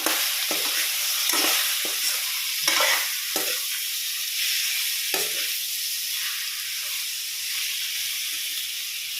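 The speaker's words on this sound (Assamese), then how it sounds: "এতিয়া আমি মাংসখিনি দি দিম আৰু মাংসখিনি অলপ ভালকৈ ভাজি ল'ম।" Meat hisses and spits in a hot pan of onions, loud and close, with sharp bursts of sizzle as it is stirred early on, then settling into a steady frying hiss.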